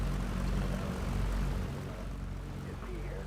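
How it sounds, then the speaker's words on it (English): A propeller aircraft engine in the X-Plane flight simulator drones with a loud, steady low rumble after start-up and sustains throughout at close range. "wait for the engine to cough up and start"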